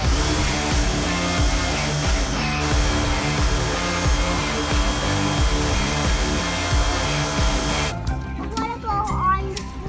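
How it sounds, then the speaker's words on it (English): A pressure washer drones steadily outdoors during spring cleaning, loud and continuous, with a voice speaking over it. "Pressure washer is like one of those things you don't know you need it until you actually use it"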